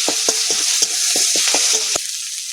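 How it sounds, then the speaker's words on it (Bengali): Ginger-garlic paste frying with onion paste and chili paste for a crab curry, a loud close sizzle broken by rhythmic scraping strokes of a spatula, about eight in quick succession. "আদা রসুন ভালো করে ভেজে নিয়েছি"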